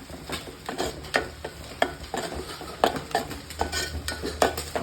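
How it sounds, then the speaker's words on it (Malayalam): A spoon stirs tomato and chili powder in a frying pan with a rhythmic run of scrapes and clinks against the metal over a soft sizzle. It is close up, with no talk. "അതൊന്ന് ചെറുതായിട്ടൊന്ന് മിക്സ് ചെയ്ത് റെഡിയാക്കി എടുക്കാം"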